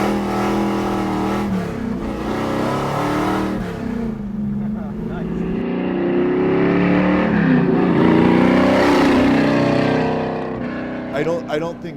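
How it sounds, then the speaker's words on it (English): A 502 big block Chevelle SS restomod with 3-inch exhaust piping all the way back rumbles steadily, its deep exhaust tone swelling midway, while people talk over it throughout. "I want to hear this thing rumbling."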